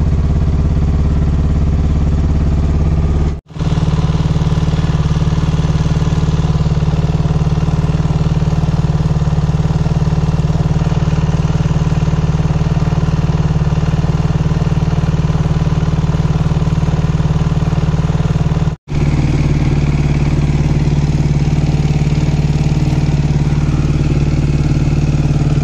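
A KTM 530 motorcycle engine idles steadily while warming up on a cool day, a continuous close, loud low-pitched rumble with a faint clatter, broken by two brief dropouts, and no talking.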